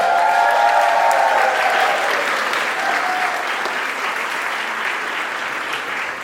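Sustained audience applause at a fundraising talk-show event, honoring Angels for Humanity founder Judith Joseph; dense, steady clapping from a large crowd that holds strong throughout, with a brief voice or tone rising above it early on.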